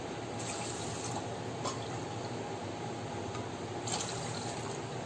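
Water poured from a cup into sugar in a pan to make syrup for gulab jamun, a steady continuous splashing pour heard up close for several seconds without talk.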